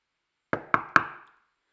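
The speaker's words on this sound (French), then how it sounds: "elle frappa à leur porte" Three sharp knocks on a wooden cottage door ring out in quick succession, close and clear, each with a short fading resonance, followed by silence.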